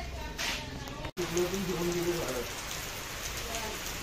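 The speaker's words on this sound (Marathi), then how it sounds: "पाऊस आला मंडळी" Rain falls in a garden during monsoon planting of mango and chikoo saplings, a steady hiss with a brief dropout and a faint tonal hum overlaid midway.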